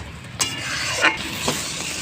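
Turmeric-spiced masala frying and being stirred in a pan for a vegetarian jackfruit curry, a steady low sizzle with a few brief scraping strokes of the spoon.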